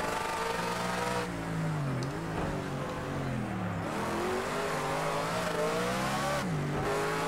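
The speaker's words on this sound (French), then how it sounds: "le turbo qui se déclenche" Audi touring car engine in Project CARS 2 racing, revving loud and close with rising and falling pitch as the turbo comes in and the car accelerates out of a hairpin, steady engine drone throughout.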